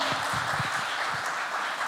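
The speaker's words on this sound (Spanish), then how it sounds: "Démosle un aplauso al Señor." A church congregation claps in praise during a sermon, a soft, distant patter of many hands held at an even, fairly low level for a couple of seconds.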